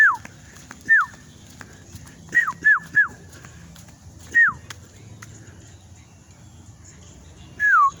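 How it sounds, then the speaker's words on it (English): A pet bird gives short, sharp descending calls, single and in quick pairs, spaced irregularly over quiet room background. "it's my bird"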